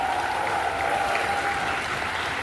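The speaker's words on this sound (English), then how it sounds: "Please give a round of applause for our signers helping us out." Steady audience applause fills a convention hall, a dense wash of clapping held at even loudness throughout, thanking the sign-language interpreters at a Dragon Con gathering.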